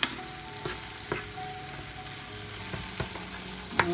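Egg cooking in a pan with nopales, a steady close sizzle and hiss broken by a few sharp pops and stirring clicks, with no voices.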